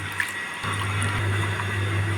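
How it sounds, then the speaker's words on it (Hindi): Chopped mustard and chickpea greens being washed in water for saag, a steady sloshing, running wash that starts abruptly after a brief quiet moment and continues close and loud. "यहाँ साग अच्छे से कई पानी से मैं धुल लेती हूँ"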